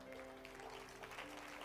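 Soft, gentle clapping from a church congregation, heard quietly and steadily over a sustained low hum.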